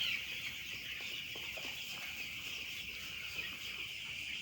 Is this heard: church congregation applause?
no